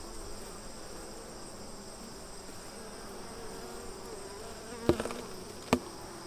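Honeybees hum steadily around an open hive during an inspection, a dense continuous drone close by with a couple of brief knocks near the end.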